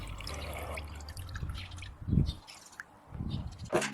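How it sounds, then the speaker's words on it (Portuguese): Running water rinses a dirty paint roller inside a plastic bottle, making soft splashing and trickling with a few louder gushes, close by and steady throughout. "Coloque o rolo sujo dentro da garrafa e enxague sob pressão de água pela abertura"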